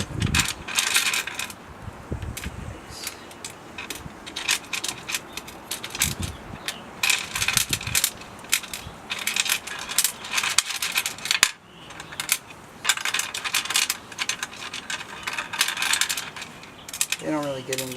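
Small metal spring washers clink and jingle repeatedly in bursts while a Craftsman aluminum router table is being assembled, close and fairly quiet, with brief pauses between handfuls of rattling.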